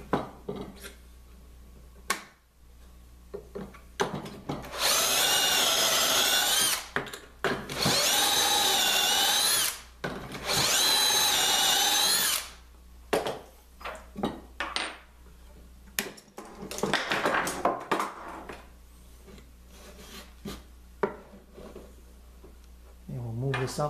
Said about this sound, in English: I got my leg holes drilled, so I'm just getting started on this one here.